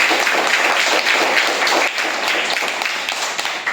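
A room of schoolchildren at a primary school quiz applauds a contestant, dense, loud clapping that runs the whole time without a break.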